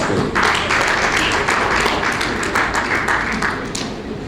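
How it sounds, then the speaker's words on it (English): An airline-industry conference audience gives a round of applause, with loud, close clapping spread through a few seconds and a few sharper claps standing out before it tapers. "I think we deserve a round of applause"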